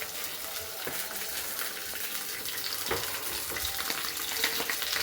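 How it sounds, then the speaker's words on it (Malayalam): Curry leaves crackle and sizzle in hot oil in a pan for kanthari chicken, a continuous frying hiss with occasional stirring scrapes and pops, fairly close and steady throughout. "ഇനി അതിലേക്ക് കുറച്ച് കറിവേപ്പില നമ്മൾ എടുത്തിട്ട് കൊടുക്കണം."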